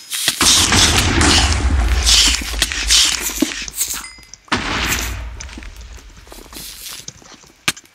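TNT blocks detonating in a Minecraft-style PvP game, two long roaring blasts in quick succession, each a loud close boom with crackling debris that decays over a few seconds, followed by scattered sharp pops.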